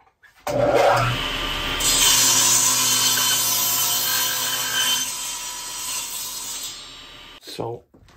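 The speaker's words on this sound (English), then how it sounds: "I'm going to use my newly made crosscut sled to square off one side" A saw squares off the end of a board on a newly made crosscut sled, spinning up and then cutting through the wood with a loud, steady rasping whine for several seconds before winding down.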